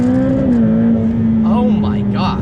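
A 2020 Ferrari F8 Tributo's turbocharged engine pulls hard under acceleration from inside the cabin, a steady loud droning tone that dips slightly, with a voice speaking over it.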